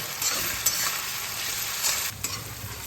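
Onion and potato sautéing in a pan with ginger-garlic and green chilli paste, a close, continuous sizzle broken by a few stirring scrapes and clatters of a spoon, with no one speaking.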